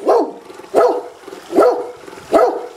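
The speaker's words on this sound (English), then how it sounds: "There's a huge black dog, a black Labrador, I think." A large black Labrador barks four times in a steady, evenly spaced rhythm, each bark loud and close with a short tail, and no talking in between.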